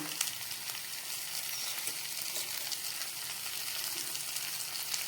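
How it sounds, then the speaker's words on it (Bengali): Mixed vegetables fry in a pan over low gas for a mustard curry, giving a steady, close sizzle with soft crackle throughout and no talking. "সবজিগুলো হালকা ভাজা হয়ে গেছে"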